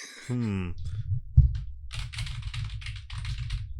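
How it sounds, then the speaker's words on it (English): Someone types rapidly on a computer keyboard with a microphone pointed at it, producing a steady clatter of close keystrokes after a brief voice and a thump at the start. "I just pointed my microphone at my keyboard for comedic effect"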